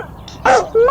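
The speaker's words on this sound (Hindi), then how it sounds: "डॉग कुत्ता।" A dog gives a short bark followed by a brief yip, close and fairly loud, in a sound for a children's animal-names lesson.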